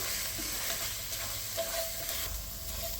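Turmeric, coriander powder, dalcha masala and kasuri methi sauté in a pan for veg dalcha rice. The sizzle is soft and even, with faint stirring, close by and quiet, and no one speaks.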